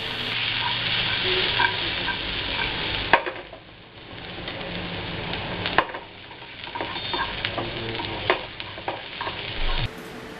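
Green chilies and onion fry in hot oil for a restaurant-style double tadka dal fry, a steady close sizzle broken by several sharp spatula knocks and scrapes against the pan as they are stirred.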